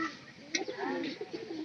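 Pet pigeons, one with an eye problem, cooing softly nearby while being fed from pots. A brief, low, rolling murmur repeats over faint background noise.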